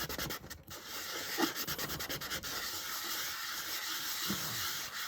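Steady abrasive rubbing of sandpaper against a small hard polymer clay pendant, continuous back-and-forth scratching with a few brief louder strokes, close up.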